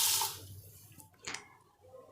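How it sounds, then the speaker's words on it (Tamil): Water poured over 400 grams of idli rice in a bowl to soak it, a brief splashing pour near the mic followed by a second short burst, no talking. "இப்போ இந்த அரிசிக்கு தண்ணியை ஊற்றி நம்ம ஊற வச்சிடலாம்."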